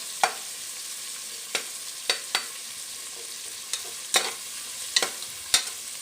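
Onions frying in a pan, with a steady bright sizzle running throughout and about nine sharp spoon scrapes or taps scattered at irregular intervals, close up and without any talking.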